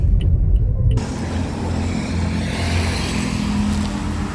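Highway traffic passing close by, a loud steady rumble of vehicles with a rushing swell as one goes past, no voices.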